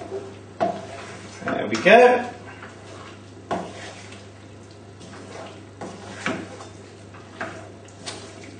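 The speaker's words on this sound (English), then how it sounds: "popping the pasta into the squash, and then giving it a nice stir and toss together" Pappardelle tossed with butternut squash in a pan: intermittent clanks and scrapes of utensil against pan, one busier stirring burst followed by scattered knocks, over a steady low hum, with a brief spoken remark.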